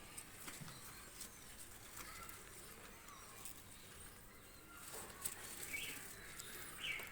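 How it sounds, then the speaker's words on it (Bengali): Oman high flyer pigeons released into the air, their wings flapping in soft bursts against a steady outdoor background, with a few faint coos and chirps near the end. "দুটা কবুতর ছেড়ে দেখাচ্ছি দেখেন"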